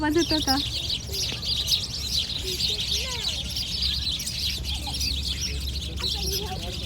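Many birds chirp and twitter continuously on a spring evening in Minnesota, with a fowl clucking and a low hum underneath.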